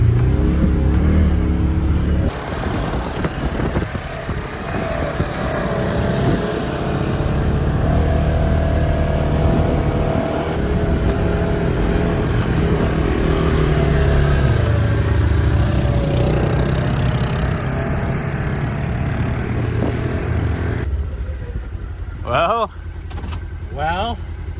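A 1985 Honda three-wheeler engine drones and revs continuously while riding, loud and close with rough mechanical rattle, ending with brief voices.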